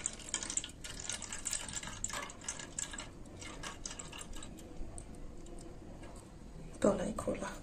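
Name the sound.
mustard water being poured into the cooking pan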